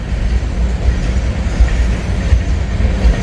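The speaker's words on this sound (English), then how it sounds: "There is an Indiana and Ohio locomotive way down there" An Indiana and Ohio railway train rolls along the line in St. Bernard, a loud, steady low rumble with faint clacking and no voices.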